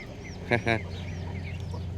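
Ducks kept in a pen on a farm in Israel give two quick, nasal quacks close by over a steady low hum, with the rest of the moment quiet.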